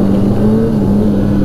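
A 2016 Arctic Cat Pantera 3000 snowmobile with a 700cc Wildcat engine accelerates, giving a loud, steady, close engine drone with a constant low tone throughout.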